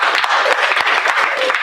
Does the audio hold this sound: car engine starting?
no